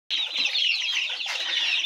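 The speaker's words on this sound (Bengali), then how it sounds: "50 দিন বয়সের অরিজিনাল ইন্ডিয়ান ব্রিডের জাতের আসিল মুরগি।" Fifty-day-old Aseel chickens clucking and squawking close by in a brief, busy burst with no talk.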